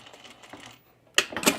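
A home sewing machine stitching a blouse sits quiet at first, then bursts into a close, loud run of rapid mechanical clatter.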